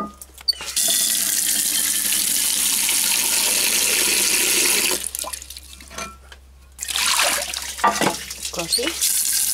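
Water pours steadily from an outdoor tap for about five seconds, stops, then runs again in short bursts with drips and splashes, close and fairly loud on a hot midday.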